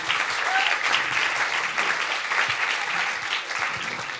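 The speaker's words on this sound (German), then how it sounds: "Applaus bitte." Warm, sustained applause from an audience at an opening event, a dense continuous wash of many hands clapping at once, steady and full for several seconds with no voice on top.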